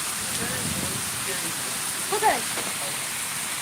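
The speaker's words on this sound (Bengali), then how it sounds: "আমাদের এখানে প্রচুর পরিমাণে ঝড় বৃষ্টি শুরু হয়ে গেছে" Heavy storm rain pours down in a steady, even hiss, with a voice briefly speaking over it midway.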